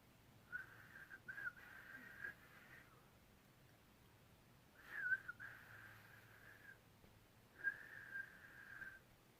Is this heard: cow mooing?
no